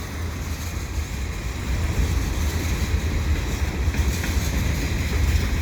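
A CN freight train carrying track panels on flat cars rolls past, a steady loud low rumble and rail roar throughout, building slightly as the cars pass close by.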